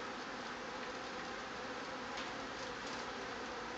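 Honey bees hum around an open hive during a beekeeping lesson, a faint, dense, even buzzing drone that continues steadily throughout.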